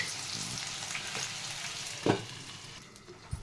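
Ivy gourd and green chilies frying in a pan, a quiet steady frying hiss with a couple of brief knocks from a stirring utensil, nearby and with no talk.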